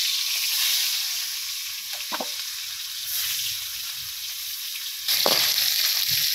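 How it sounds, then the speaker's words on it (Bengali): Tilapia fish frying in hot oil, a loud, steady hiss of sizzling with a couple of brief clinks of a utensil, close and uninterrupted. "মাছটি ভেজে নিতেছি"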